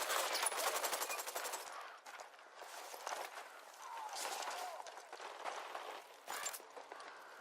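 Rapid gunfire in Ghost Recon Wildlands, a fast rattling automatic burst up front followed by scattered, sharp shots at moderate distance over busy game ambience.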